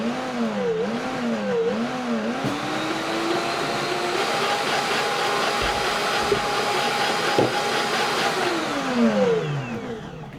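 A vacuum blender running under its hood: a loud motor roar with whining tones that sweep up and down in early pulses, then hold steady before winding down near the end, with no talking.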